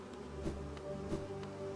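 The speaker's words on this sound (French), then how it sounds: "Par contre, les bruits de bourdonnement, ça trigger." Insects in the video game Hollow Knight keep up a steady buzzing drone, soft and continuous, with a few faint pulsing swells over a low background hum.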